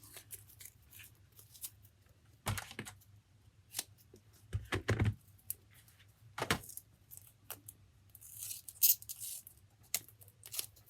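Foam tape is peeled from its backing while making holiday cards: sharp, quiet tearing and crinkling bursts scattered over a hushed room, close up and intermittent.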